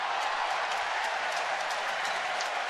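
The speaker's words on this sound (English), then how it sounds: "Very enthusiastic crowd here tonight." A large crowd applauds and cheers at a night baseball game between Boston and Baltimore, a dense and steady roar of clapping that fills the stadium without pause.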